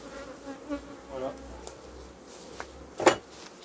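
Honeybee colony buzzing at an open hive during a July inspection before the last harvest, a steady close buzz with individual bees passing by, faint tool clicks and a sharp knock near the end, and someone speaking briefly.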